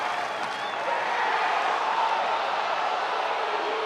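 Baseball crowd at an Auburn vs Stetson game on a full 3-2 count, a steady wash of cheering and clapping that holds at an even, moderate level throughout without any single standout burst.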